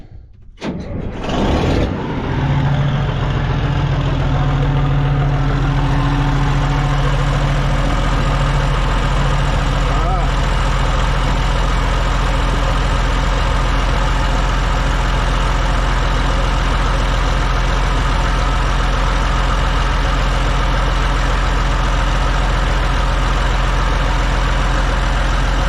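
A John Deere JD890 excavator engine cranks and catches, then settles into a loud, steady, close diesel idle with a constant low rumble that runs on without a break.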